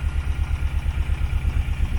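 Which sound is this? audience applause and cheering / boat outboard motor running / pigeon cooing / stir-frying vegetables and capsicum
boat outboard motor running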